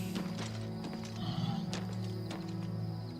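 In the video game Oblivion Remastered, hooves clip-clop steadily while a horse whinnies, with a constant electronic hum and tonal background music underneath.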